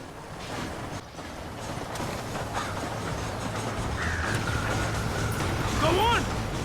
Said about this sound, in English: You have to go out there and stop the train before it crosses the bridge.